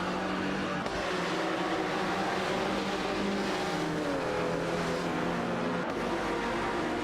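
Race car engines from an AI racing video game drone steadily and loudly throughout, tones shifting as cars accelerate and pass, with no pause in the continuous roar.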